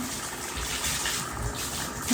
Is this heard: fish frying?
no